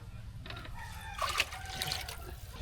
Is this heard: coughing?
no